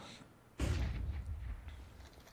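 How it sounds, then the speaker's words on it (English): Flashbang grenade going off around a corner during a Counter-Strike match: a single sudden loud burst with a broadband boom that decays over about a second and a half, with faint game ambience before it. "Flashbang round the corner."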